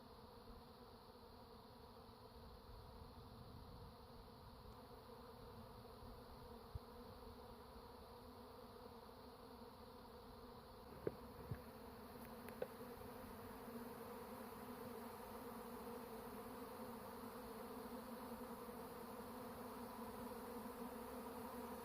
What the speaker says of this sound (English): you can see there's like the air is filled with bees